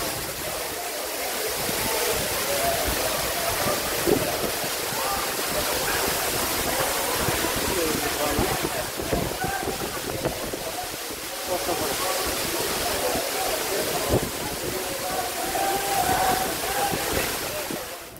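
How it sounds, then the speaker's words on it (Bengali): Dhuppani waterfall in Bangladesh, a steady broadband roar of falling, rushing water that stays loud and continuous throughout, with faint voices at times beneath the wash. "ধূপপানি ঝর্ণা আমার দেখা বাংলাদেশের সবচেয়ে সুন্দর ঝর্ণা"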